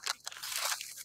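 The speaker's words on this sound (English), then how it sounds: "Oh yeah, I can hear that crunch here." Close crunching bites into a freshly fried, battered snack at a South African Indian night market, several sharp, brittle crunches within about a second.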